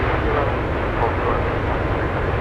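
UPS flight 67, an airplane arriving from Seoul, South Korea, at Anchorage airport, makes a continuous broad engine roar that stays loud and even throughout.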